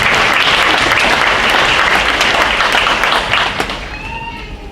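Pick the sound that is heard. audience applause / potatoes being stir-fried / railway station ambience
audience applause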